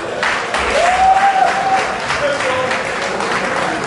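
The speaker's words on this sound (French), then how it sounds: "Une fois de plus, on applaudit pour Bobo Yé." An audience at a cultural evening applauds steadily, a dense sustained patter of clapping that fills the room, with a voice briefly heard over it.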